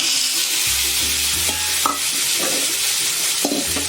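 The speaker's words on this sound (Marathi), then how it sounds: "आता त्यामध्ये आपण हे पावटे घालून घेऊया" Green pavta beans dropped into spices frying in hot oil give a loud, close sizzle with stirring scrapes across the pan, steady and continuous without any voice.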